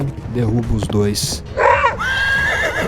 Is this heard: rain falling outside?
no